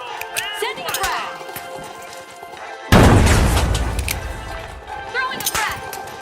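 A frag grenade bursts with a heavy, loud boom in a Wuthering Waves fight, its roar decaying over a few seconds amid clattering game effects and voices.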